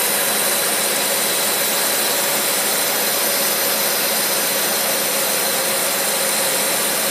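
An engine idles steadily during adjustment of a Holley teapot carburetor, a loud continuous whirring roar with a smooth unchanging tone and no speech.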